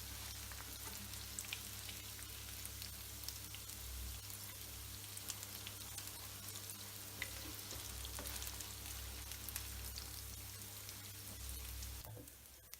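Chicken pieces deep frying in hot oil for butter chicken, a steady, dense crackling sizzle that stays close and even throughout, with no voices over it.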